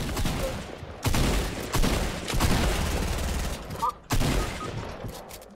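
Gunfire in a squad match of a video game as a player shoots at walls: dense, rapid automatic bursts that are loud and close, broken by a few short pauses.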